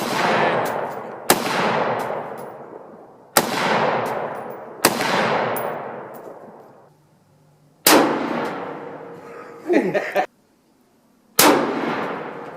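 Firearms fired outdoors, several loud close gunshots, each with a long ringing decay, spaced irregularly over a dozen seconds with short quiet gaps and no talk.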